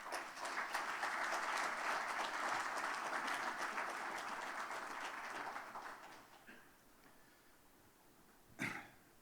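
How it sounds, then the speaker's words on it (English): A conference audience in Dubrovnik applauds as a member of the European Parliament is introduced, steady clapping for about six seconds that tapers off, followed by a single sharp knock near the end. "Ladies and gentlemen, please applaud Mr."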